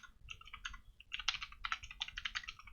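Fast typing on a computer keyboard, close and fairly quiet, with a few scattered keystrokes followed by a dense run of rapid clicks.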